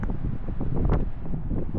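Strong, cold coastal wind on Australia's Great Ocean Road in Victoria buffeting the microphone in a constant low rumble, gusting slightly throughout with no voices.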